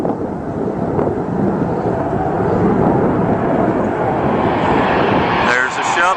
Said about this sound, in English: Take a look and take a listen to those jet engines.